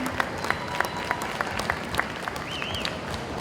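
Scattered applause from a modest audience at the Miss CC Farm Bureau contest, fairly sparse individual claps at a moderate distance, with a faint whistle-like tone briefly rising near the end.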